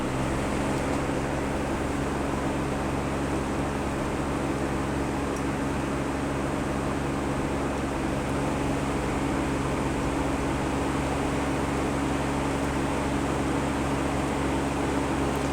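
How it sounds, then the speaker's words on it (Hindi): An air cooler runs at maximum fan speed with a constant broadband whoosh and a low motor hum, steady and fairly loud close up, with no other sounds. "अगर मैं कूलर के बिल्कुल सामने करूं तो तकरीबन फुल स्पीड पर हमें 55 से 70 dB तक की नॉइज़ देखने को मिलती है।"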